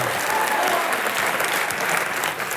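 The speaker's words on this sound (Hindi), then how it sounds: "एक बार जोरदार तालियां रजत सर के लिए।" Dense, sustained applause from a television comedy studio audience fills the whole stretch, steady and loud with no gaps, welcoming a guest onto the stage.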